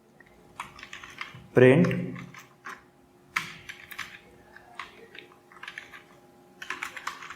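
Rapid typing of code on a computer keyboard, a steady patter of close keystrokes with brief pauses, under a voice talking.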